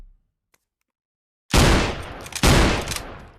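A video game minigun opens up after a second and a half of silence, firing two loud, dense bursts of rapid gunfire back to back, close and heavy with rumbling low end.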